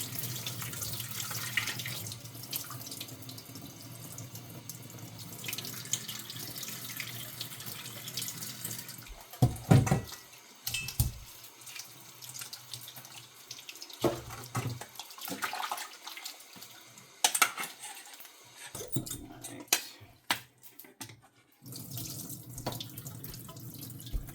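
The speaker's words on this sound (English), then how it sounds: "Make sure you're washing your veggies and everything because they need washed." Vegetables rinsed under a running kitchen tap for a Jamaican-style curry fish, steady splashing water flowing throughout with occasional louder bursts and clatter as the produce is handled.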